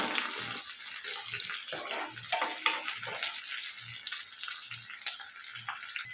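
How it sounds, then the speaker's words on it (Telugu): Chopped onions frying in a pan for a broad bean and tomato curry, giving a steady, close hiss and sizzle throughout with soft periodic stirring scrapes. "ముందుగా కట్ చేసి పెట్టుకున్న ఆనియన్స్ కూడా వేసుకోవాలి ఇవి ఇప్పుడు బాగా మగ్గిన దాకా ఫ్రై చేసుకోవాలండి"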